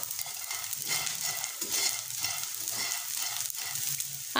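Edible gum (gond) frying in a shallow pool of ghee while being stirred, with a steady crackling sizzle and scraping spoon strokes close by, plus scattered soft pops throughout.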